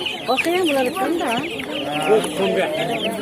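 A hen with her chicks at a poultry market clucks and calls close by, mixed with high chick peeps and other fowl, while people talk underneath.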